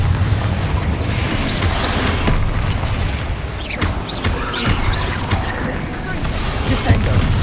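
Booming fire-spell blasts from the Confringo curse in Hogwarts Legacy on PS5 burst loudly over a dense, rumbling battle din, with voices calling out during the fight.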